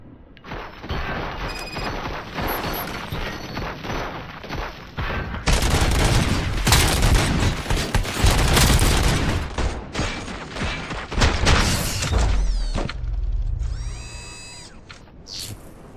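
Video game gunfire in Robocop: Rogue City sounds as dense, loud bursts of automatic shots. Heavy volleys build to a peak midway, then taper off into scattered shots and electronic effects.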